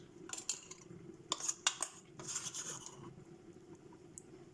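A metal spoon stirs a pot of mixed dal with salt and turmeric, giving a series of quick clinks and scrapes against the pot in irregular bursts, close and fairly quiet, with no talking.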